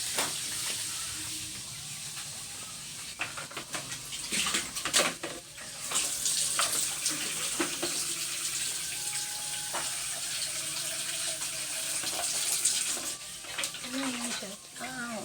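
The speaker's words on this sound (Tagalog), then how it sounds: "Lagyan natin ng tubig si Doggy." Water running from a tap at lunchtime, a continuous hissing splash that persists at moderate volume while people talk and handle things nearby.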